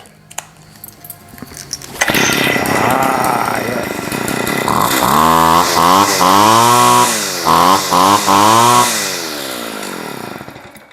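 A car engine cranks and catches after a brief quiet stretch, then runs loud and close with revving that rises and falls before settling toward idle.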